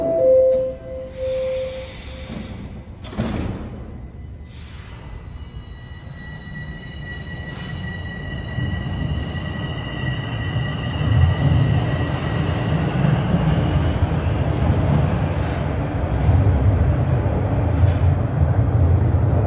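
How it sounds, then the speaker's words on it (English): A westbound TTC Line 4 subway train pulls out of a station, opening with a few sharp clanks and a brief whine, then a low rumble that swells steadily as it leaves, with no voices. "there goes the westbound train heading to Shepherd Young."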